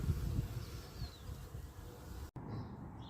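Honeybees in a suspected queenless beehive, a faint continuous low buzzing hum heard close up with a brief dropout near the end.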